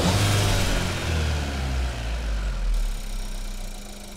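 A warmed-up 1.5 TSI EVO car engine fitted with a RAMAIR sport intake and PRORAM filter runs with a deep, steady low rumble that swells briefly near the start and then settles back toward idle, loud and close with no talking.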